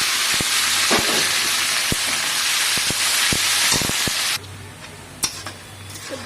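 Onions dropped into a wok of hot oil left over from frying chicken pieces set off a loud, dense hiss with scattered sharp clicks, which suddenly drops to a quieter sizzle near the end.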